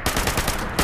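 Rapid automatic gunfire from the video game Fallout 76, a burst of close, loud shots in quick succession lasting under a second.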